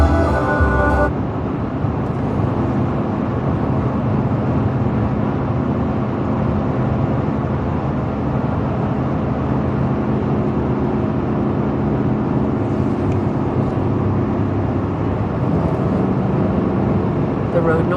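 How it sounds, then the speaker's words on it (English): Continuous low road rumble and tire drone inside a moving car, steady and even throughout, with a brief louder burst at the start. "The road noise. I mean, this could be the car."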